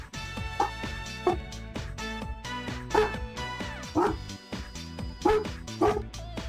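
Pet dogs bark in short sharp bursts and let out whimpers and yips, spaced irregularly over steady background music, fairly close.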